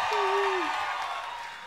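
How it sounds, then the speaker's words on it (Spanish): Audience applause at a live podcast show, a moderate wash of clapping and crowd noise with a single short whoop early on, gradually softening toward the end. "Un aplauso para Yanko"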